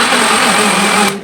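A kitchen mixer whirs loud and steady as it blends mango with milk into a puree, a close continuous motor hum that cuts off abruptly just before the end.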